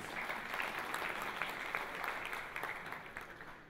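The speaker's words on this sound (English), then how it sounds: "A big round of applause for CA Raju Vora, please" Soft, continuous applause from a seminar audience at a technical event on UAE bankruptcy law, faint and distant with an even texture throughout.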